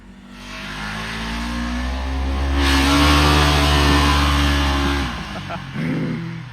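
Close engine revving from a Polaris RZR side-by-side, a loud droning note that swells to a peak and then drops away, with people talking over it.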